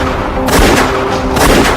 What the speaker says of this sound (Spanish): cuando sonaron unos disparos